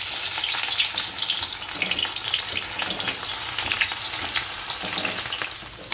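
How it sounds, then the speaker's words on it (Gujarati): Onions deep-fry in hot oil for Gujarati dahi bateta curry with a steady, dense sizzle and crackle, continuous and close, no voices. "હવે કાંદા તળશું."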